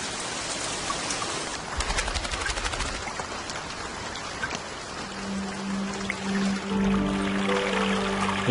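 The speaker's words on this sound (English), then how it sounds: "When the rains come at the end of the dry season, the place transforms immediately." Heavy rain pours at a spring at the end of the dry season, a dense, steady hiss that fills the scene, with a low sustained tonal drone joining in the second half.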